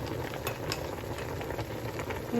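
Beef with ginger and garlic paste fries and is stirred in a pan, giving a quiet, steady sizzle with occasional soft scrapes and clinks of a utensil.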